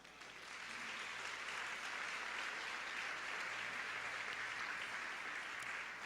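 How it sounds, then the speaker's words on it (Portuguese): A church congregation applauds the Lord in a steady, dense wash of clapping that swells in and holds loud and even throughout, with no voices over it. "vamos aplaudir o Senhor"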